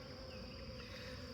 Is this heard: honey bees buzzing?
yes